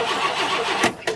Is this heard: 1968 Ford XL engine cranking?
yes